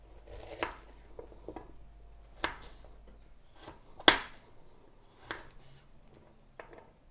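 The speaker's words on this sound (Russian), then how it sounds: "Морковку предлагаю нарезать брусочками." Several separate knife cuts on a board as a carrot is sliced into sticks, spaced irregularly with one sharper, louder chop in the middle and quiet pauses between.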